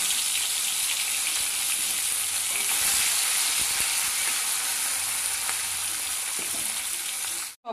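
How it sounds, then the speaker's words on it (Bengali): Fish fry in a pan of oil with a dense, loud, unbroken hiss and crackle from start to finish, a few faint utensil clicks beneath, stopping abruptly at the end. "আর বাকি মাছগুলোকেও একইভাবে ভেজে নেব।"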